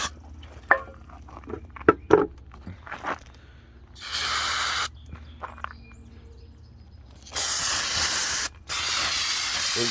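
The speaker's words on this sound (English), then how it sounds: "Now I'm going to hit the whole thing with some carbon choke cleaner." Carbon choke cleaner sprayed from an aerosol can onto a Coleman CT200U engine, down the spark plug area and ports: two sustained hissing bursts near the mic, separated by quiet gaps with light handling clicks and taps.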